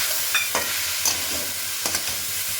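Minced meat cooks in a pan to dry off its water, with a continuous sizzle and a few scraping strokes from a stirring utensil, heard close with no speech.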